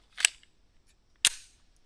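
A Canik MC9 Meta Prime pistol fires two sharp, loud gunshots about a second apart, each a crisp crack with a short decaying tail, with quiet between them.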